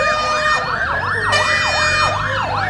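A fire truck siren wails loudly and close as the engine arrives at a burning truck in Uberlândia, a repeating rising-and-falling tone over road rumble.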